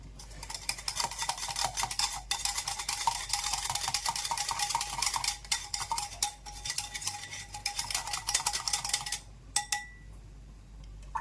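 Chickpea flour being stirred into water in a bowl, a steady close run of scraping and clinking spoon strokes that keeps going for several seconds and then stops, followed by a couple of brief taps.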